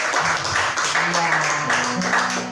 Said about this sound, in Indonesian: Kita sambut dengan tepuk tangan.